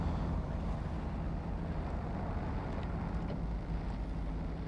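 Modded 2021 Toyota Tacoma TRD Pro pickup with diff lock engaged, driving in low gear through terrain in SnowRunner, a steady low engine rumble with faint rattles, moderate and continuous, no voices.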